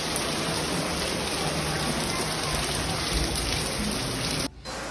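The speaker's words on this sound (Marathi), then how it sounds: "बघा अचानक पाऊस सुद्धा आलेला आहे, आणि बघा किती आलेला आहे वारा पाणी." Sudden rain with wind outside a temple during Lakshmi Puja, a steady dense hiss of falling water and gusts filling the whole clip, loud and close, briefly dipping near the end.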